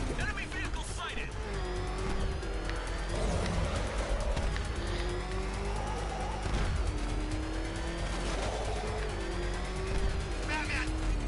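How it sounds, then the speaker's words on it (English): Rumbling engine and grinding treads of an enemy tank in the Batman: Arkham Knight video game, a steady loud drone with shifting pitch running throughout beneath game music and effects, while voices speak over it. "Batman, he's got a freaking tank!"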